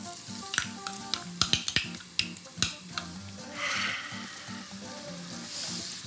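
Onion frying in a pan for garam masala lentils, starting with sharp clinks of utensils against the pan, then settling into a soft steady sizzle, close by with no talking.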